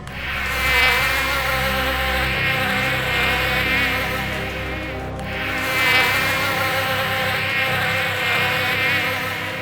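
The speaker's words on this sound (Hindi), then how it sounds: "इस मक्खी की आवाज वाले मोटर का।" A small toy motor buzzes steadily like a housefly, close and continuous for the full stretch, its droning pitch rising and falling in two long swells with no talking.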